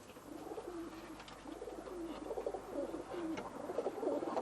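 Soft, repeated cooing of pigeons, low and throaty, steady against a faint background hum.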